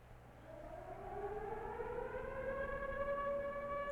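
A civil defense siren in an old monster film wails upward in a steady rising tone, sounding distant and fairly faint over a low background hum.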